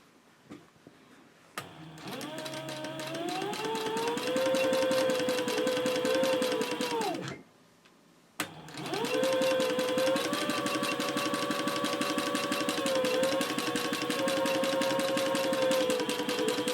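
A sewing machine stitches across a Bellezza handbag in two long runs of rapid, even mechanical chatter, pausing briefly between them as the needle pivots; close and loud, with no voices.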